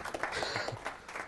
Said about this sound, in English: Everybody, big round of applause for Marla.